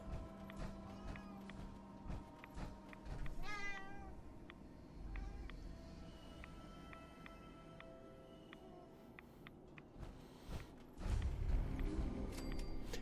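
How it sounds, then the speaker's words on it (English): A cat meows several times, a rising, wavering cry repeated over a few seconds, with faint household rustling and clatter around it. "Meow."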